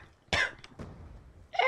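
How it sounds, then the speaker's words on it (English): A man coughs while playing Black Ops 2: one harsh cough burst, a couple of smaller follow-up coughs, then another loud cough at the end, close to the microphone. "Why am I coughing?"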